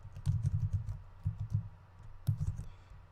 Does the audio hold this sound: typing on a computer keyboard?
yes